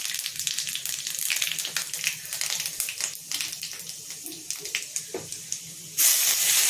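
Panch phoron spices with bay leaf and dried red chilli sizzling in hot oil for a vegetarian sabzi, a steady hiss with small pops that grows louder near the end.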